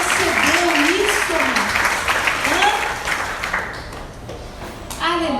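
A church congregation claps in steady, dense applause, loud at first and tapering slightly, while a voice speaks and sings over the clapping.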